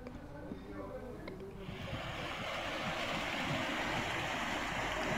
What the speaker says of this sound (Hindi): एयर वॉल्व टूटने से हजारों गैलन शुद्ध पानी रेतीले धोरों में बह गए।